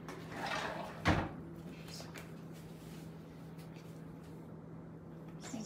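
A drawer opened and closed, a scraping slide followed by a sharp bump near the start, then quiet room tone with faint movement.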